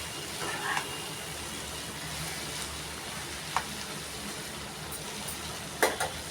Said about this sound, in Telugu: కొంచెం బాగా వేగాలండి